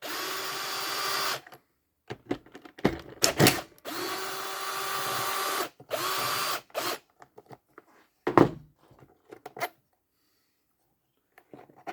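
Power screwdriver driving screws into a Honda Miimo HRM 3000 robotic mower during disassembly: several bursts of whirring, each a second or two long, separated by pauses, close and fairly loud with no talking.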